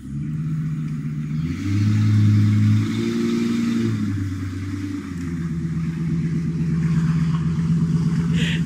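A Ford vehicle's engine revs and strains while pulling on a tow strap, its droning pitch stepping up and down through several surges, loud and close with no talk.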